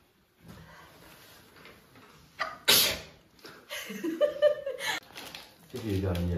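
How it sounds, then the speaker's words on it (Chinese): Someone sneezes once, sharp and loud, after having nasal medicine put in at a clinic, amid quiet talking and soft laughter from people nearby. "要打喷嚏5分钟啊"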